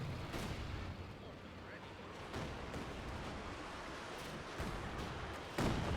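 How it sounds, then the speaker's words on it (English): Katyusha rocket artillery shelling in a Company of Heroes 2 battle, a dense rumbling barrage with repeated blasts and bursts rolling on throughout, loud and continuous. "the artillery shelling never stops, with now in total 3 Katyushas on the field"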